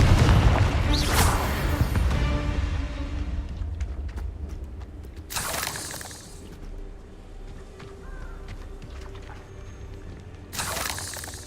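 Confringo fire spells burst in Hogwarts Legacy as booming explosions, a heavy blast at the start, then two sharp cracking bursts spaced several seconds apart over a low rumbling game soundscape.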